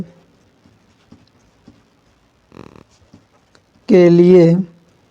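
Pen writing on paper while solving a Class 10 maths problem, faint close scratches and taps in short strokes, followed by a brief loud voice.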